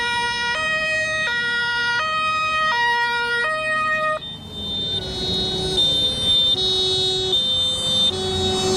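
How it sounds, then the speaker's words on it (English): A fire truck siren sounding loud and continuous, first in a fast alternating two-tone pattern, then shifting to a slower, higher wailing cycle that repeats steadily. "this is yet another different type of siren."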